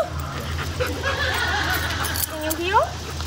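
A German Shepherd whimpers and whines in high, wavering tones amid crowd noise and passing voices outdoors, the cries rising near the end, with keys or tags faintly jangling.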